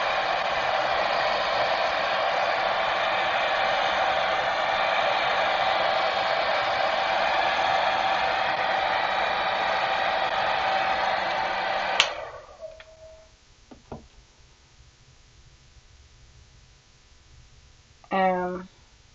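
A handheld hair dryer blows loud and close with a steady whoosh and whine for about twelve seconds, then cuts off, leaving quiet clicks and a brief voice.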